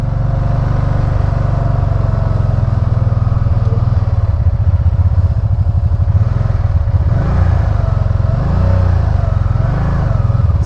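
A 2012 RTS motorcycle with a failing VCM runs on the road, its engine droning loud and close with uneven surges and dips as the throttle is worked.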